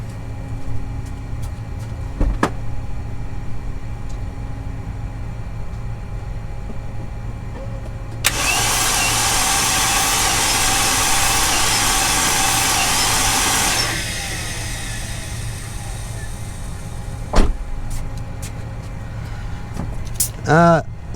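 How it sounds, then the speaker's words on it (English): 2008 Mercedes CLK350 with a locked M272 engine, its starter grinding loudly for about five seconds without catching, set between quieter stretches of background hum and a few sharp clicks. "we're gonna attempt to start the car maybe on 5 or 4 cylinders"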